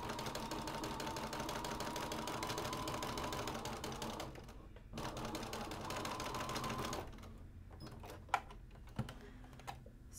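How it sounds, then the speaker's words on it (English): Sewing machine running a quarter-inch quilt seam, a fast, faint rattling stitch in two runs broken by a short pause, followed by a few soft clicks and light handling noises. "we're going to go ahead and sew our 1/4 inch"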